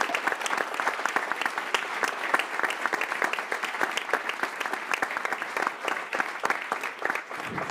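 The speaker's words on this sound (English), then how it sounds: "Let's give them a huge round of applause" An audience at an ocean innovation event during Monaco Ocean Week applauds the co-conveners, a dense stream of many separate hand claps, moderately distant and sustained throughout.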